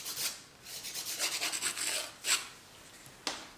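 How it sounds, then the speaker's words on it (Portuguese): Nail file rasping across fingernails during a manicure, shaping the sides before polish: rapid close-up scratchy strokes in bursts, with a few sharper scrapes near the end, no talking. "vou só limar aqui toda a minha lateral e formato, antes de vir com a pintura"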